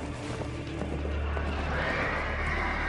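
A horse whinnies loudly, with hooves clip-clopping on hard ground nearby, a steady close sound effect with no voices.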